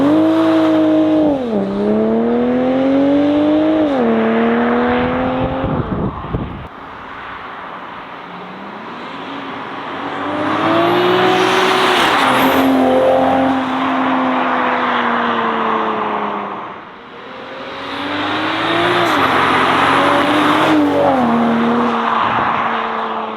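A Toyota Supra mk5 fitted with a new exhaust and intake drives past loudly outdoors, its engine note rising and falling through revs on repeated passes.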